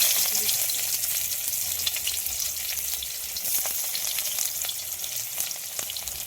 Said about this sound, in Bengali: কড়াই অল্প করে আরেকটু তেল দিয়ে দিয়েছিলাম কেটে রাখা পেঁয়াজ কুচি।